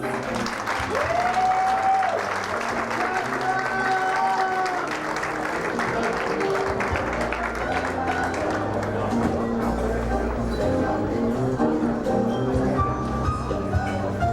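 A pageant audience applauds a contestant brought onto the stage, sustained crowd clapping lasting the whole stretch, with a voice and music-like tones rising over it at times.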